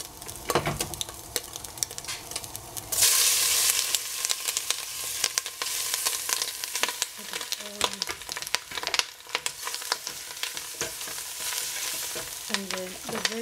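Fungi mushrooms sizzle and crackle loudly in a hot pan with egg and cabbage, with steady frying hiss and occasional scraping and stirring clinks throughout.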